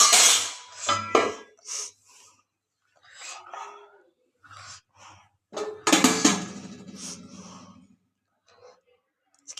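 A cooking pot of rice being covered with its lid, a few sharp metallic clinks and scrapes of utensils and pan between quiet gaps, close by.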